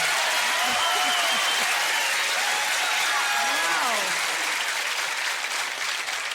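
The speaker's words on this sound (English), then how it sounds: "That's a lot of clapping." Comedy club audience applauding and cheering as a stand-up comedian takes the stage, a dense, steady roar of clapping with whoops and voices calling out, one voice briefly exclaiming.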